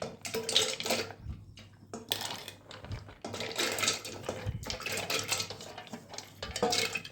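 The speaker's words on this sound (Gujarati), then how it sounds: "હાલો જો હું આ પાસ્તા બાફવા મૂકું છું." Pasta going into a pressure cooker of water to boil in a home kitchen, close clinks and clatters of pot and utensils in irregular bursts, no talking.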